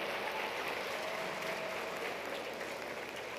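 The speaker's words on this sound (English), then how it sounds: "So a round of applause for all of us." A crowd at a business school celebration applauds in a steady, even wash of clapping that holds without pause, heard from some distance in a large hall.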